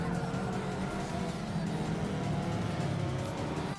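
Race cars in a racing simulator game, an RX-8 and a Miata dueling on track, with a continuous loud engine drone that holds steady throughout.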